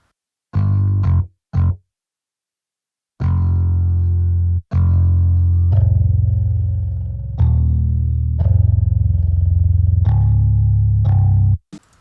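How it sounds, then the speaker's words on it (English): Bass guitar plays short plucked notes then longer sustained ones, a fairly clean low tone with a slight gritty edge, no talking. "Yeah, nice clean bass there, but with some grit to it as well."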